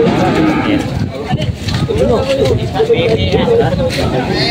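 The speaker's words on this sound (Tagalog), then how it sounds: "Mga talong Stevie, napakaraming kalabaw ulit dito nabili. Ni Boss KD." Water buffalo and cattle low and call at a crowded livestock auction market in Lucena, Quezon, their moos rising over continuous loud crowd chatter and nearby voices.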